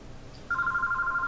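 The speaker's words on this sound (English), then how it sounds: "We are receiving a phone call." A telephone rings with an incoming call during a live-streamed tabletop game session: a steady electronic ringtone tone starts abruptly midway and holds loud and clear over a quiet background.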